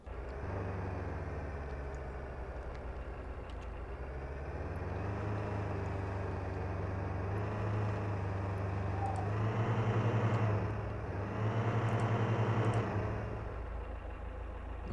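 A modded Niva Bronto off-roader engine in Spintires MudRunner runs steadily, a low droning hum with a couple of revving swells near the end, steady and close with no talking.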